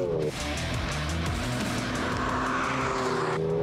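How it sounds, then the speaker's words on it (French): Mercedes GLA 45 AMG with a seven-speed dual-clutch gearbox pulls hard, its engine note climbing and dropping briefly at each quick shift, loud and continuous inside the cabin with no talk. "Les changements de vitesse sont extraordinairement rapides."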